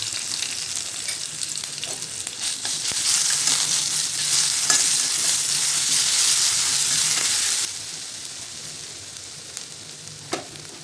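Ginger garlic paste sizzles loudly in hot oil with mustard seeds and curry leaves in a kadhai, a steady broadband frying hiss that swells midway, then drops to a quieter crackle with a few sharp pops near the end.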